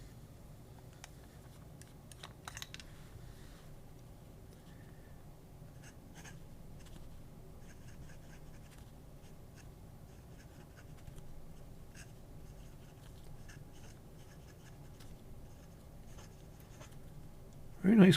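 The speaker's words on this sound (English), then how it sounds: "And let's do some writing." A pen writes on paper close up in quiet, faint scratches and strokes, with a few taps now and then and a louder bump at the end.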